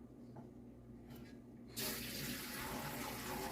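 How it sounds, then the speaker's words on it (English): Water from a kitchen tap gushes suddenly into a pot of seasoned pigs feet, a steady loud rushing pour that starts after a quiet moment and continues to the end. "And now I'm going to add some more water."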